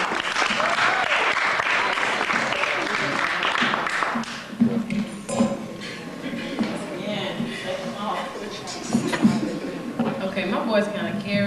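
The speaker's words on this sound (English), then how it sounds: "So give them a round of applause." A crowd at a poetry reading by the Haraka Writers applauds the poets with loud, sustained clapping for about four seconds, then it drops away beneath a speaker's voice.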